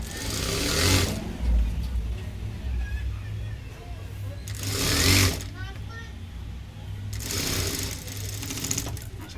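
A sewing machine stitches a blouse sleeve, running in three separate short bursts of rapid mechanical whirring. Between the bursts a person talks, and the hum of the room continues underneath.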